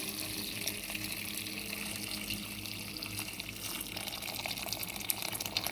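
Hot water pours steadily into a pot of chickpeas set on the fire, a continuous faint splashing and trickle with no talk.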